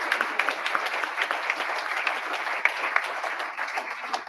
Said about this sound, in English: So nice round of applause for Kathy Hamazi.